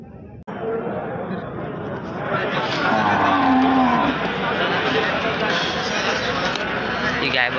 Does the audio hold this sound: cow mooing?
yes